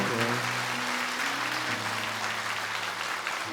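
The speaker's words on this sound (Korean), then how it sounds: "우리 함께 힘차게 박수로 더 축복해 주시고 또 축하해 주시면 감사합니다." A church congregation claps steadily through a Sunday worship service, a dense, even wash of applause with sustained musical tones humming underneath.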